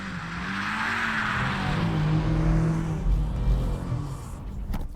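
A BMW M5 CS slides with all power sent to the rear wheels, its engine note loud and sustained with tyre noise throughout, easing slightly toward the end.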